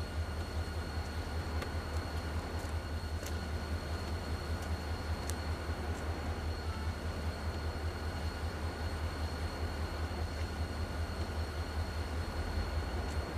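A train rolls along, a steady low rumble with faint rhythmic wheel clicks and a thin high whine, continuous and even throughout with no talking.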